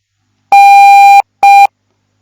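Morse code for the letter N (November) played as a pure electronic tone: one long dah followed by a short dit, loud and clean against silence.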